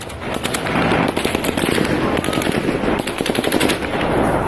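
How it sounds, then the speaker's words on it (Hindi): Rapid bursts of automatic gunfire crackle through the streets of Kherson, Ukraine, loud and dense with overlapping shots echoing continuously throughout. "गोलियां चल रही हैं,"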